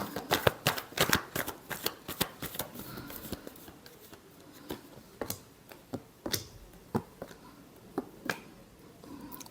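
Tarot cards are shuffled by hand in close, crisp bursts of riffling and slapping, a fast irregular run of sharp flicks early on that thins to sparser snaps, with no voice over them.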